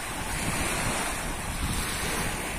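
Seaside waves washing onto a shell-strewn shore with gusting wind buffeting the microphone, a continuous hissing surf roar with soft rolling swells and no talking.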